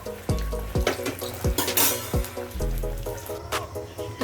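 Chicken leg pieces deep frying in oil crackle and bubble, broken by repeated knocks and clatters of a utensil against the pan in an irregular rhythm.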